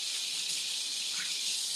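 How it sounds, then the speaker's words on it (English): Meat simmering in a pot on a stove gives off a steady, even hiss that holds unchanged throughout at a moderate level, with no talking. "we're gonna let that simmer down"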